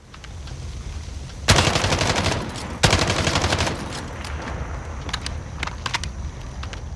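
Holger 26 (G36) rifle hipfire in Call of Duty Modern Warfare, with two loud sustained bursts of rapid automatic shots followed by several short, sharp single clicks and pops.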